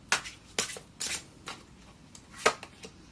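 Tarot cards being shuffled and drawn for a love reading, heard as several separate crisp riffling bursts spaced about half a second apart, close up and quiet, with no talking.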